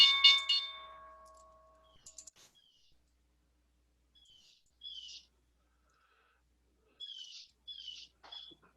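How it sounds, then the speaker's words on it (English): A crow calling outside, heard indoors as faint, brief, scattered calls in small bursts separated by silence, starting with a louder cry and no talk. "You got a crow outside?"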